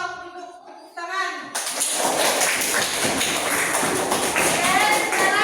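Students in a school classroom break into a loud round of hand clapping that carries on steadily after a teacher speaks briefly at the start.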